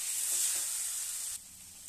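Vegetables with onion sizzle and are stirred dry in a hot pan, a soft, steady frying hiss close by that drops quieter partway through, with no talking.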